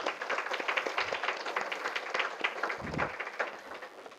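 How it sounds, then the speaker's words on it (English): Audience applause for panel members at a discussion event, a brief burst of dense clapping from a room of people, moderately loud and fairly even across its few seconds. "I think all the panel members here need a big round of applause."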